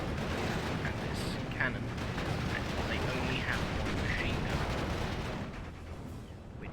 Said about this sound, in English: have a lot of heavy guns on them, such as this mortar